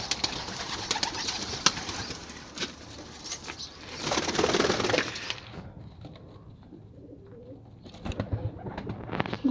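Pigeons in a bird enclosure, with soft cooing and bursts of wing flapping coming and going at moderate distance, plus a flurry of activity midway before things quiet down.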